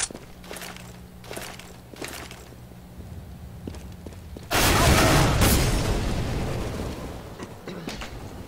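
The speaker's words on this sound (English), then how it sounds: "I'm throwing a flashbang!" A flashbang grenade goes off in Counter-Strike: Global Offensive during Operation Breakout gameplay: first soft footsteps and faint clicks, then one sudden loud blast that fills the sound and fades slowly into a ringing hiss.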